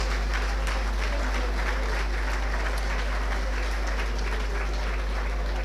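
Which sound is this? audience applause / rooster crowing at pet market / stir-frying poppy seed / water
audience applause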